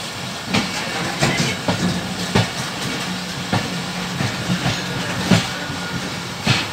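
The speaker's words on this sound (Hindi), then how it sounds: "पाकिस्तान के खूबसूरत रेलवे स्टेशनों में से एक रेलवे स्टेशन है।" A train at a railway station in Pakistan, with a steady rumbling roar and regular clickety-clack wheel beats repeating about every second, loud and close with hiss.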